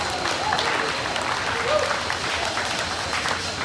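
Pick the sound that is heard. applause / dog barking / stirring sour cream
applause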